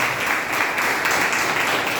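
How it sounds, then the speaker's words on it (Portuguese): Church congregation applauding together, a dense steady wash of clapping that holds at an even level throughout with no pauses and no voices over it. "Uma linda salva de palmas pela vida dos irmãos."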